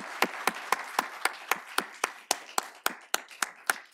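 Rhythmic clapping after a conference panel, sharp evenly spaced claps about four per second, close and clear, with no other sound between them.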